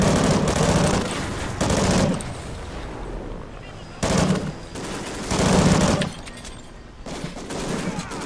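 Gunfire in the video game Call of Duty Ghosts, with dense bursts of automatic weapons and heavy booming shots coming in repeated waves, while shouted voices come through underneath.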